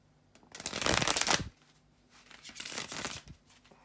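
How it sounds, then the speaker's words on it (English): Tarot cards riffle-shuffled close up in two quick bursts, the first longer and louder, the second softer, with a short pause between. "bear with me a second, guys, to shuffle the tarot cards"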